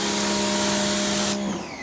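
A spray bottle mists Meguiar's ceramic detailer onto car paint in one steady, close hiss that lasts over a second, then cuts off abruptly.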